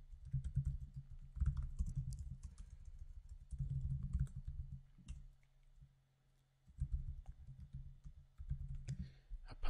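Quiet typing on a computer keyboard while entering a name and email address into a sign-up form, in bursts of rapid key clicks with a short pause in the middle.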